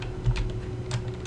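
Keys clack on a computer keyboard in a short run of light, quick strokes, close and fairly quiet over a steady low hum.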